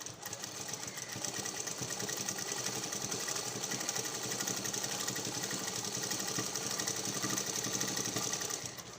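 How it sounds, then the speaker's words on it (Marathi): A sewing machine stitches a blouse back with lace attached, running in one steady, fast mechanical whir that holds for the whole stretch without any talk. "शिलाई मारूया."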